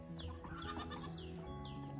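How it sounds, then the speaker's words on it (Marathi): Goats bleating repeatedly at a village water spot in Konkan, several thirsty animals calling one after another over steady farmyard background noise, fairly close and continuous. "तहान लागले वाटतं बकऱ्यांना भरपूर"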